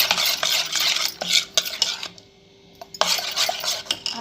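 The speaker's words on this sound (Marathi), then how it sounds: "म्हणजे सगळं टाकून असं हलवून घ्यायचं" A spoon stirs homemade pani puri water in a bowl, with rapid, close clinking and swishing strokes that pause briefly in the middle and then resume just as busily.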